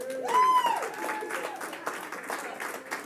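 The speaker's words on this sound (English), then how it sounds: "Applause." Applause from an election night crowd after a legislative leader and majority leader are announced, a brief dense burst of clapping mixed with cheers and voices over about three seconds.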